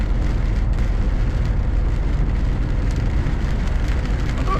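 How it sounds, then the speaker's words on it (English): A heavy downpour falls in Wales as steady, dense rain hisses and patters on surfaces, constant and loud throughout with no voices. "We have a downpour."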